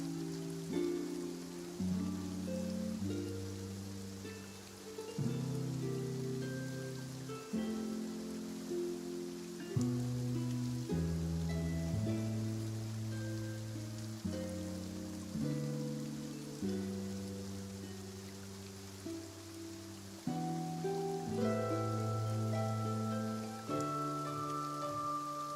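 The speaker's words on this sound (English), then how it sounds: "Looks like rain." Rain falls in the Fontaine region of the video game Genshin Impact, a steady wash of drops beneath a slow, pitched musical score that runs throughout.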